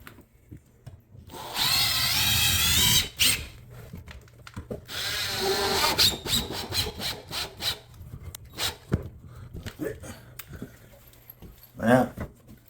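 A power drill drives screws at an angle through plaster cornice into the wall studs, with a sustained whirring burst, a second shorter run, then scattered clicks and knocks, under intermittent speech.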